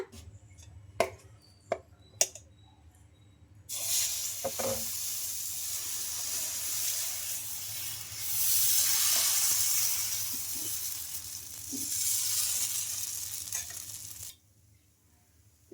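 A dosa made from five kinds of lentils fries on a pan. A few faint clicks and taps come first, then a sudden steady sizzle swells and fades in waves before stopping sharply near the end.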